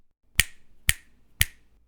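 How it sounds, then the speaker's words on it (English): Three crisp finger snaps in an even rhythm, about half a second apart, close and clear in an otherwise quiet room, made to mark a mistake while recording an audiobook. "remember to snap your fingers whenever you make a mistake, but keep recording"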